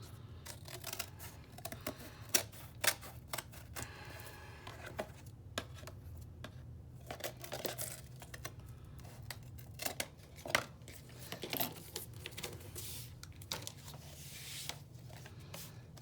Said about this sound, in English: I'm just going to use my scissors now